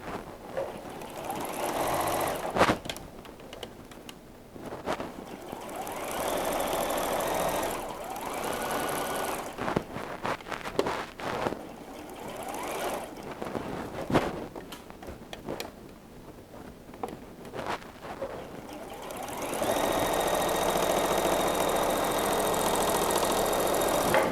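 A domestic sewing machine stitches quilt block seams together, a steady mechanical whirring hum that runs in bursts with brief stops, growing louder and more continuous near the end, with no talking.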